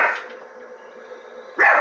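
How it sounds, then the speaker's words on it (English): Dog barking, a sharp single bark at the start and another at the end, fairly close and loud, with quiet background between them. "I had heard her growl, but I had never heard her bark"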